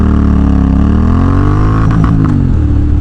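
A Honda CTX700 motorcycle fitted with a K&N air filter accelerates under load, its engine note droning loud and close with a rising pitch and wind rush, and no talk.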